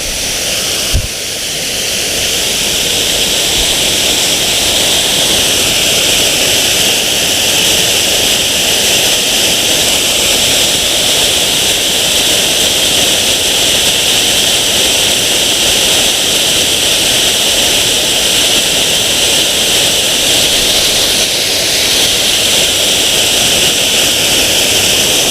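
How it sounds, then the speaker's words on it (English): A big waterfall in autumn woodland on Exmoor, a loud continuous rushing roar of falling water, close and steady from start to end after a brief knock. "Well, a big waterfall."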